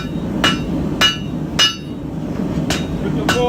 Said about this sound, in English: so I'm just going to start forging down the tip